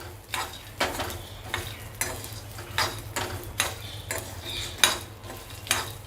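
Roasted, skinned peanuts being sautéed in a pan for farali chevdo, with a spoon stirring and scraping in regular strokes about twice a second over a soft, steady sizzle.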